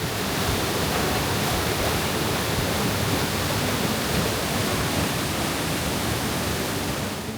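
A steady, loud rush of falling water at Mengeruda Waterfall on Flores, Indonesia, fills the space, constant and unbroken with no voices.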